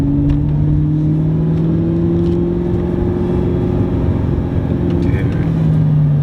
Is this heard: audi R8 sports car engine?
yes